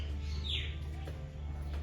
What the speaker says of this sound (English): Quite a few birds.